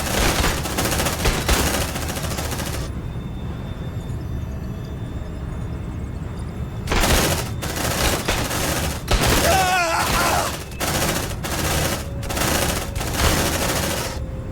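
A squad in Aliens Dark Descent fires dense, loud bursts of automatic gunfire that come in several volleys with short pauses between them, and voices shout at times.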